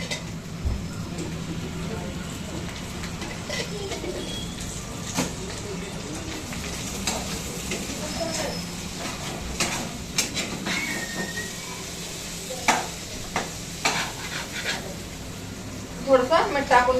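Food frying in oil and being stirred in a pan, a steady crackling sizzle with scraping and clinking of the spoon, while people talk nearby.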